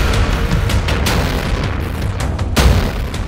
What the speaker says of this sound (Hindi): इजरायली मिसाइल का धमाका कितना जबरदस्त है।